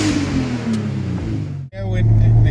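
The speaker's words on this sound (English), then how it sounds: "let me get some exhaust note." A 2JZ-powered Toyota Soarer's engine and exhaust idle and then rev up after a brief dip, loud and close, with a deep, rising tone.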